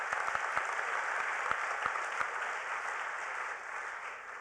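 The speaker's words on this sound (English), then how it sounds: "Please let's give President Vicente Fox a big hand of applause." Steady applause from a large audience at an awards ceremony at the United Nations, honoring President Vicente Fox, with a few sharp claps standing out over the dense wash.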